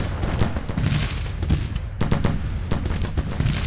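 Musket volleys in Grand Tactician: Civil War crackle continuously, with dense overlapping shots and sharper bursts rolling through the whole stretch, loud and unbroken.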